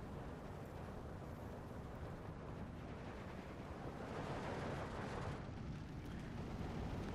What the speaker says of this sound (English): Big explosions coming down, pinning all those infantry down.